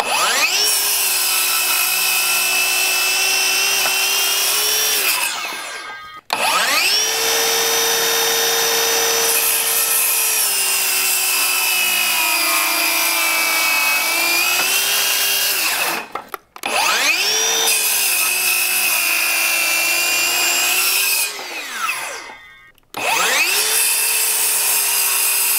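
A Ryobi ONE+ HP 7-1/4 inch circular saw cuts through wood in four long, loud, close passes, its high whine dipping under load, with brief pauses between cuts.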